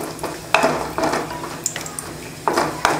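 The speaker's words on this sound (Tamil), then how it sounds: "முந்திரி பருப்பு முதல்ல வறுத்துக்கலாம்" Cashews frying in ghee in a pan for carrot rava laddu, irregular close clacks of a spoon stirring against the pan over a faint sizzle.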